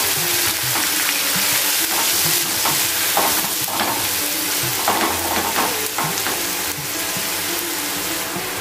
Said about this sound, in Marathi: आणि आता आपण आपली कांद्याची पेस्ट घालूया।